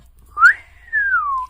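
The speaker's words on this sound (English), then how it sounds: "Can you whistle?" A person whistles alone, close and clear: a short rising note, a brief gap, then a longer note that slides slowly downward.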